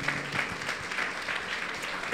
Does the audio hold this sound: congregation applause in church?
yes